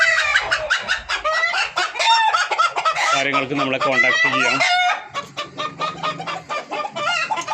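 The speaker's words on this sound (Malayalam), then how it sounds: "ഒറിജിനൽ നാടൻ പുള്ളിക്കോഴികൾ, കാപ്പിരിക്കോഴികൾ" Native spotted hens and Kappiri chickens cluck loudly and continuously at close range, with a crow-like call rising in the middle, while a person talks over the birds.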